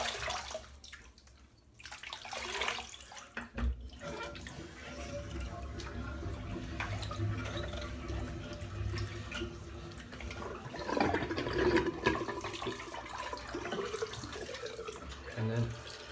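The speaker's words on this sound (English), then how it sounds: "I'm just going to rinse off with warm water." Warm tap water running into a bathroom sink for rinsing after a shave, a steady splashing flow with dripping and hand movements, close and fairly soft, with brief pauses.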